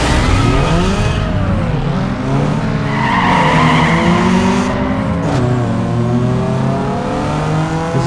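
Cars in a drag race in the video game Need for Speed Underground 2, engines revving loud and steady with whining gear shifts and tire screeches, filling the whole stretch with no talking.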